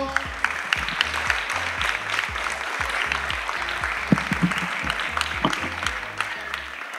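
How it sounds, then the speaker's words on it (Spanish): A crowd applauds youth chess players at the prize ceremony of an international open chess tournament in Conil, a sustained round of clapping with a few sharper claps and faint voices mixed in. "Un aplauso a todos"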